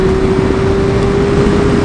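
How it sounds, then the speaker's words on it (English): A motorcycle exhaust drones loud and unbroken on a road tour near North Cape, a steady engine note with no pauses. "sounds like my exhaust scared them away"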